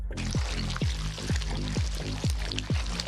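Coloured crepe batter pours from a cone into a hot pan in short, repeated squirts, each a wet gurgling pour with a falling pitch, over a steady background sizzle.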